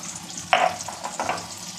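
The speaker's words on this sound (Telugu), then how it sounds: "ఫ్రై చేసుకున్నాను. సిమ్లో పెట్టుకొని ఫ్రై చేస్తే ఇంకా మంచిది" Turmeric and red chilli powder frying in hot oil for an egg curry, a short burst of sizzle and a couple of spoon stirs, close and fairly loud without speech.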